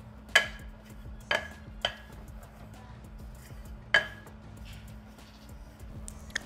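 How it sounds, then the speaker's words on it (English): A utensil clinks against a bowl a few separate times, with quieter scraping from stirring turmeric and jaggery into handvo batter ingredients in between. "give that a nice mix"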